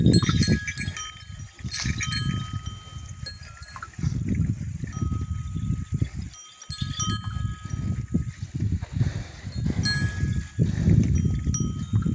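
Decorated bulls at a village festival worship jostle for a food offering, their bells clanking and jangling in bursts alongside rustling and thuds, close and busy throughout.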